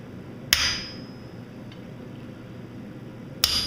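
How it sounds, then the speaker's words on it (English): Two sharp, ringing hammer blows about three seconds apart strike a small handmade half-round chisel, cutting the edges of claws on a hand-forged steel dragon's foot. Each metallic strike is loud and close, with a brief ring, over quiet room tone. "Using a small 1/2 round chisel that I've made, I define the edges of the claws."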